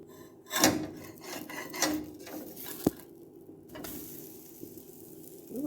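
Gluten-free pancakes cook in a pan with soft sizzling, while a spatula scrapes and rubs against the surface in several quick strokes and one sharp knock, fairly quiet and close.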